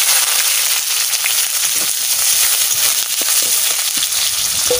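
Chopped onions fry in hot oil with a steady, close sizzle and scattered sharp crackles and pops, alone without any talking.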